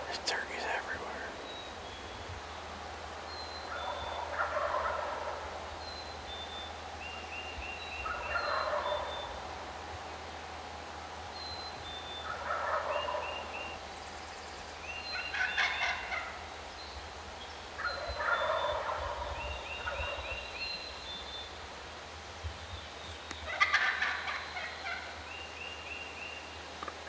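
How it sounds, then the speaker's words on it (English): Wild turkeys gobble repeatedly during a spring turkey hunt in Vermont, rattling calls recurring every few seconds from a distance, with quiet whispered talk in between. "There's turkeys everywhere."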